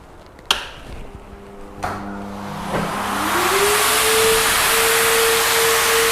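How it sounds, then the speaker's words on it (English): A couple of sharp clicks, then a blower motor switches on and spins up into a loud, steady rushing whine of air. "grab my car dryer. I'll just flick that on."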